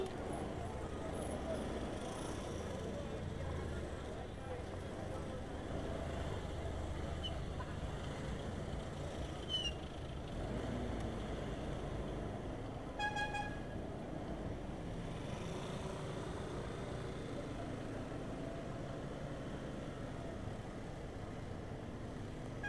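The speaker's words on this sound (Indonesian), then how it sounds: "Itulah rekan-rekan suasana terminal Lor Kuning pada siang hari ini." Midday ambience at the Aur Kuning bus terminal in Bukittinggi, a steady engine rumble and crowd noise with a brief horn-like tone partway through, under near-continuous talking.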